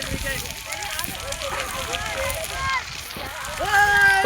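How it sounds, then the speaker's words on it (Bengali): A large fire from burning wheat stubble in a field in Murshidabad, a continuous roaring rush with scattered crackles while people talk nearby and a siren-like tone rises near the end. "আমাদের বাগান অব্দি আগুন চলে যাবে জানিস"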